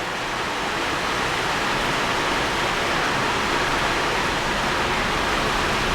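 Dense, steady hiss of heavy, sudden rain pours without pause, loud and uniform throughout.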